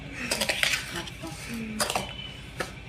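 A spoon mixes powdered sugar in a bowl, producing soft scraping strokes with a few sharp clinks of metal against the bowl, close and fairly quiet, with faint voice in the background.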